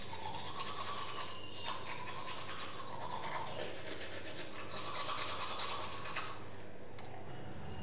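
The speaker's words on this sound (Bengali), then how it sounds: "সো বন্ধুরা, আমি এখন কী করছি? ব্রাশ করছি, দেখেছো?" A toothbrush scrubs teeth close up, making a continuous rapid bristly rubbing with a steady back-and-forth rhythm, heard alone without talk.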